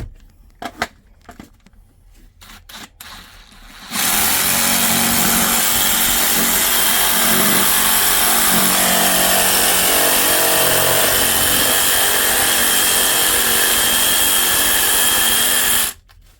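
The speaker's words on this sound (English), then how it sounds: "Still rocking the wrong sawzall blade" A sawzall reciprocating saw fitted with the wrong blade cuts during a shower drain replacement, a loud, steady buzzing roar that runs for about twelve seconds after a few quiet handling knocks, then stops abruptly.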